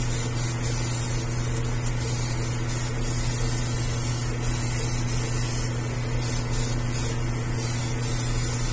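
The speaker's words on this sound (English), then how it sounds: "This Grex will put out some primer pretty quick" Primer sprays through a Grex airbrush at raised air pressure onto a rock-textured model base, a steady, unbroken hiss layered over a low compressor drone.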